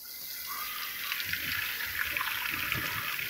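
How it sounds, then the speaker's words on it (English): A newly installed Moen kitchen faucet on its turbo setting runs a strong, steady stream of water into a sink, close and continuous, with the splashing growing slightly heavier partway through and no one speaking. "when you're just running water, it's going a little slow because it's restricted, and this opens the restriction"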